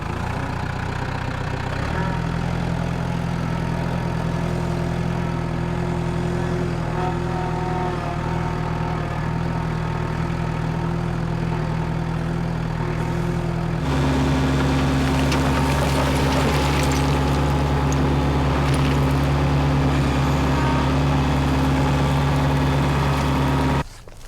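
A tractor engine drones throughout at a constant low pitch while raking rocks in four-wheel drive, shifting to a louder, deeper hum partway through before cutting off at the end.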